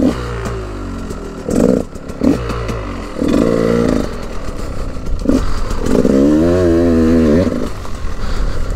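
Loud KTM EXC dirt bike engine revving and accelerating while being ridden, with rising and falling pitch sweeps, brief throttle blips and gear changes, close up and continuous over rough clattering ground.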